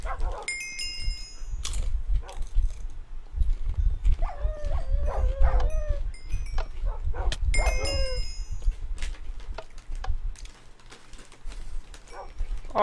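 Barking from tamed dogs in the video game Minecraft as they fight zombies, with several short, rising yips over a busy game soundscape and hooflike clatter, moderately loud throughout.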